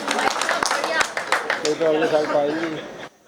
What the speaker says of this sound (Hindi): जब समझ में आए तब ताली बजा लेना